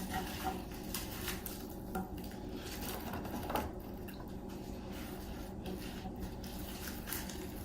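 Red and orange peppers, onions and carrots tumble into a pan beside a drum smoker, with repeated metallic clinks, scrapes and soft squishy rustling of vegetables, close by and without talking.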